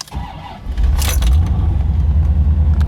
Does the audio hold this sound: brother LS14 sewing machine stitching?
no